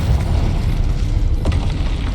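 A Confringo spell explosion in the Hogwarts Legacy video game, a loud, dense rumbling blast that fills the whole moment with a sharper burst midway and no talk.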